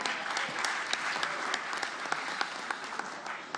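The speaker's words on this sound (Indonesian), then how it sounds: "kita berikan tepuk tangan yang meriah" Audience applause fills a formal Indonesian political gathering, steady dense clapping with sharp individual claps standing out, sustained throughout at moderate distance with no talk over it.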